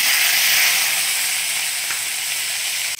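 Onion paste frying in hot oil with dry red chili and bay leaf, a loud, continuous close-up sizzle with a bright hissing texture that stays steady and tapers slightly near the end.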